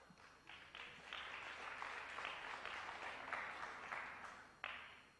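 A crowd applauds at a pool match final between Efren Reyes and Steve Davis, a sustained patter of clapping that rises after a quiet start, holds steady and fades at the end.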